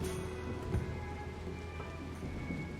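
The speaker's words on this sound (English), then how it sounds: "Apparently we're getting a little bit of rain here." Light rain falls steadily in the colony-building game RimWorld, a soft continuous patter with a faint low rumble beneath and one brief thump near the start, no voices.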